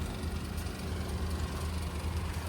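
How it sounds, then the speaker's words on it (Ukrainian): Skoda Octavia A5 from 2011 with the 1.4 TSI petrol engine idling, a steady, smooth low rumble held evenly throughout, close to the car, with no speech. "Двигун працює м'яко, класно."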